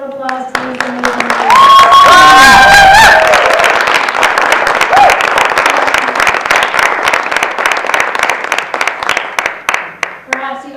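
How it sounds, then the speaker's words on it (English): A spring concert audience breaks into loud, sustained applause with whoops and cheers, many hands clapping densely before the clapping thins and trails off; a voice speaks briefly at the start. "Please give one more warm round of applause to these amazing"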